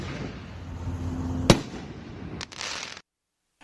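Illegal fireworks go off with one sharp, loud bang over a dense crackling rumble, then a second fainter burst, before everything drops to near silence.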